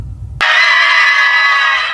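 Supporters in a courtroom burst into sudden loud cheering and screaming just after court is adjourned, a dense roar that erupts after a brief murmur and holds at full volume.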